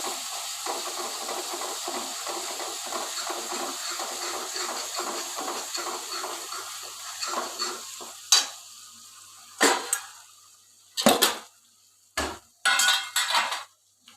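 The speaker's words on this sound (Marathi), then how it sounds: "आता याला ब्राऊन कलर होईपर्यंत याला परतत राहायचे।" Masala for a dhaba-style egg curry sautéed in a pan until brown, a soft continuous sizzle broken by rhythmic scraping strokes of a spatula, then a few louder clattering stirs against the pan.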